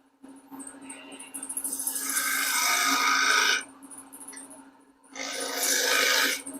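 A turning tool cuts wood on a lathe while shaping a garden dibble's cove, giving a loud scraping rasp that swells, drops briefly, then returns in a second pass.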